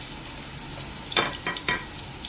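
Garlic sizzles in a pan, a steady frying hiss punctuated by three quick, louder bursts of stirring or scraping near the end, with no one speaking.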